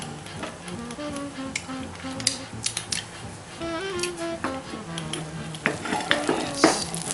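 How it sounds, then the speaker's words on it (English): Butter sizzles steadily in a hot frying pan for scrambled eggs, a soft crackling hiss with scattered small pops and light clinks of a utensil against the pan. "Hear that bit of sizzle there."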